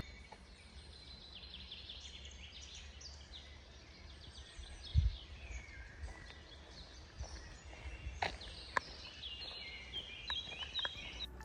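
Bird song in a forest along the Via Francigena between Vetralla and Sutri, with thin, scattered chirps and trills at moderate distance over a quiet outdoor background and one brief nearby knock.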